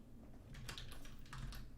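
Quiet typing on a computer keyboard, a quick irregular run of soft clicks over faint background hiss.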